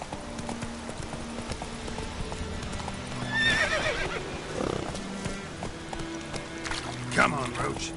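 The horse Roach gallops in The Witcher 3, its hooves clip-clopping rhythmically while a neigh rises briefly and someone speaks over the hoofbeats.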